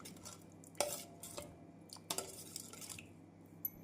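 Masala paste being stirred with a cup of water to dissolve it, with spices, ginger and garlic, for cauliflower pakoda batter: soft wet swishing and a few sharp clinks of a spoon against the bowl, close and quiet.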